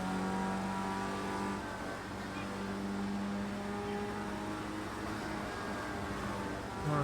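Race car engines in the video game Project Cars 2 drone with a constant pitch, unbroken and fairly loud throughout, with no talking.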